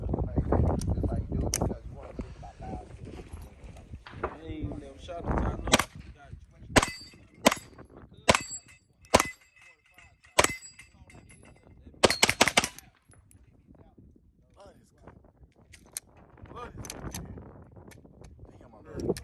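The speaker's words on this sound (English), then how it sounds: "M&P 12, I'm shooting with the Smith." A Smith & Wesson M&P 12 shotgun fired outdoors, a series of sharp, separate reports spaced a second or two apart, some in quick pairs, heard at moderate distance with faint talk before and between them.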